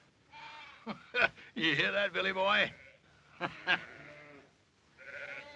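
Sheep bleat loudly and nearby in several wavering cries in a western TV drama scene, broken by short sharp noises, with a voice talking between them.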